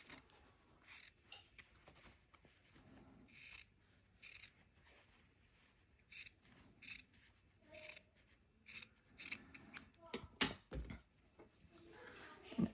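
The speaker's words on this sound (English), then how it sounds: "then trim the seam" Sewing scissors trim the seam allowance on a floral sundress, with quiet, close snips coming in short scattered bursts separated by silence, plus faint rustling of fabric.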